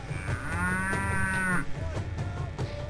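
A cow gives one long, loud moo on a farm with a biogas plant in Bukeye, Burundi, over a low rumbling background that continues after the call ends.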